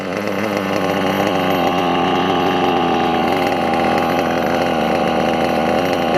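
A Hyper 7 RC car's nitro engine runs steadily and loud for about six seconds, a continuous buzzing drone with a constant pitch, sounding like a small chainsaw, running slightly rich with nothing else heard.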